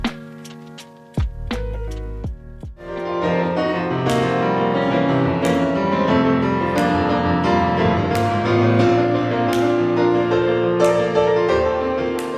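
A Kawai ES920 digital piano plays a few separate notes, then moves into a loud, continuous passage of full chords and melody with steady, ringing sustain and no voices.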